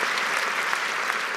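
An audience at a large women's gathering claps steadily and fairly close, with a dense, continuous patter of applause and no pauses through the whole stretch.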